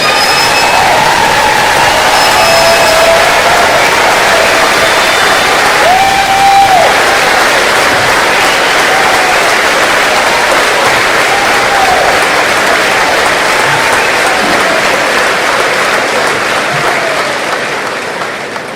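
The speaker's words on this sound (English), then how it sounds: "would you please rise and we may honor your service with our applause" A large graduation crowd applauds to honor veterans and service members, a loud, sustained roar of clapping that holds steady before tapering slightly at the end.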